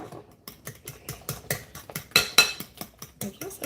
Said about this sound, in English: now we're going to stir this about and get it combined